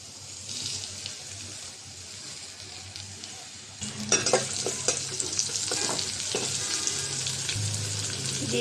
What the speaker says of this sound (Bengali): হালকা একটু ভেজে নেব পেঁয়াজ, চিংড়ি মাছ আর কাঁচা মরিচ।